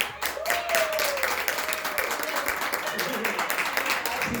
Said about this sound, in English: Y'all start giving a round of applause for my girl, Shavina Richardson